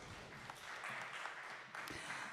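Audience applause at a business event honoring spin-off company founders and executives, a faint, steady patter of clapping from a crowd sustained throughout, with no voices standing out.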